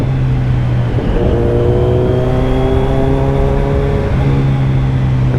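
A motorcycle engine in Bournemouth revs hard and loud with rev-matched throttle blips, its pitch climbing and falling in repeated sweeps against a constant deep rumble, with no talking.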